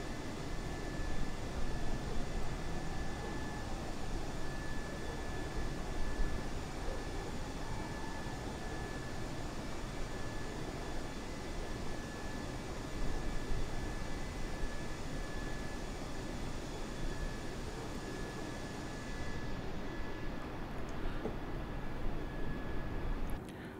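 An Airbus airliner cruises in a flight simulator on a flight from Islamabad heading towards Lahore, giving a steady broadband cabin roar with faint constant tones, unbroken and even for the whole stretch.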